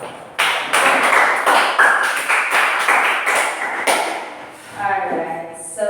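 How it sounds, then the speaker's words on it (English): A classroom full of students breaks into clapping, a dense, steady burst of hand claps that swells, holds for several seconds, and then fades out as a voice begins speaking. "Let's give them a clap."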